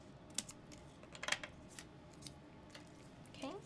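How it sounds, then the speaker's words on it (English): Several short, crisp snips of scissors cutting, scattered and quiet, in an otherwise hushed room. "grabbing my scissors, I'll do the same thing here."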